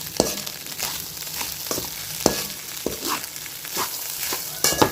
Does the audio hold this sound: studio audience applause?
no